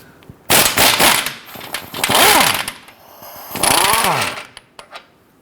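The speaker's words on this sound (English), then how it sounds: "going to use our impact gun and our swivel socket to go ahead and gain access to these." An impact gun fitted with a swivel socket rattles in three loud bursts on the torque strut bolts of a 2017-2020 Hyundai Elantra, its pitch rising and falling as it spins, followed by a few short taps.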